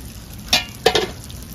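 Meat browning in a pan is stirred in two short scraping bursts over a soft background sizzle, close and moderately loud.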